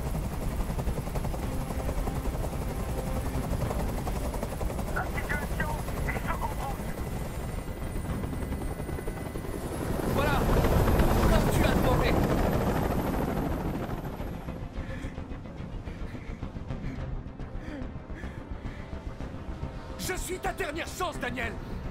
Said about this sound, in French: Je peux plus supporter ce bruit! Fais dégager cet hélicoptère,